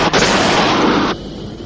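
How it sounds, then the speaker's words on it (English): Anime missile launch effect from the 1982 Techno Police 21C: a loud, dense roaring blast of noise sustained for about a second, then cutting down to a quieter hissing tail. "Fire your missiles!"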